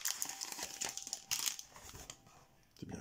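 Packaging on a sealed box being opened, with crinkling and tearing in quick irregular bursts, close by and fairly loud, with no one speaking.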